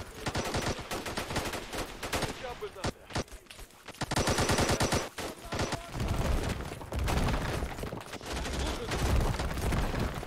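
Heavy gunfire in the Call to Arms war game during an Afghan village battle against a Russian force: dense, loud machine-gun bursts and rifle shots that keep overlapping for the whole stretch, with booming low impacts late in the sequence.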